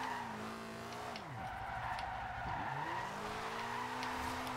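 A Toyota Celica GT drift build slides through corners in Forza Horizon 2, tires squealing and skidding over a revving engine whose pitch swoops down and back up twice.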